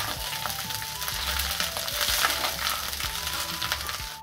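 Vegetables for veg fried rice sizzle loudly in a hot pan while a spatula stirs them, giving steady frying hiss broken by repeated scraping and tossing, close and continuous.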